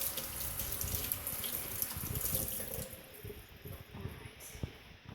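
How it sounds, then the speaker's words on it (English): Tap water runs steadily into a sink as hands are rinsed, a continuous splashing hiss that eases off partway through, with light clatter underneath. "let me rinse my hands a little bit over here"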